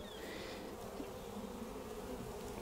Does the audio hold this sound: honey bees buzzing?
yes